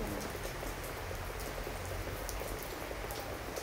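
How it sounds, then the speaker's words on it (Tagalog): Rain falls steadily outdoors, a dense, even hiss of drops hitting surfaces and splashing, close and unbroken, with no one speaking. "Pag umulan, ang sarap magtampisaw."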